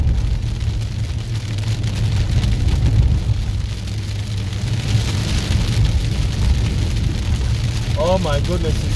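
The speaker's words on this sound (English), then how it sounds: "Honestly, it's quite heavy, the rain." Heavy rain drums loudly and steadily on the roof of a car being driven into a storm, a dense roar throughout, with a brief voice near the end.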